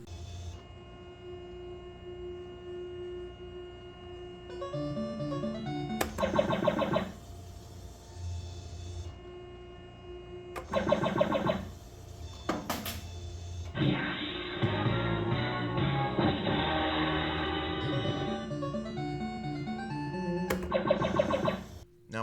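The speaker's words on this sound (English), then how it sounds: "this has a bit of a humming noise when you are running" Spin N Drop arcade machine running: a steady low electrical hum sits under repeated electronic beeps, short melodic jingles and a bright buzzing stretch, all fairly close and continuous for over twenty seconds, with no talking.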